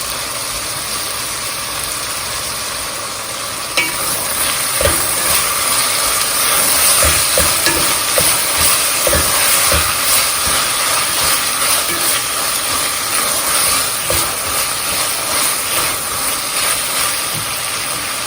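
Ginger and garlic paste sizzles in hot oil in a pan while okra sabzi is being cooked. A steady, close hiss with small crackles and faint clinks runs throughout, then gets louder after a few seconds.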